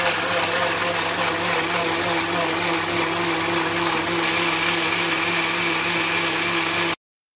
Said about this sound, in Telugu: ఇప్పుడు మనం మిక్సీ పట్టేసుకోవాలి